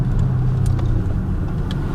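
Porsche Panamera TechArt Grand GT engine idling, a steady low rumble held close and even throughout, with no voices.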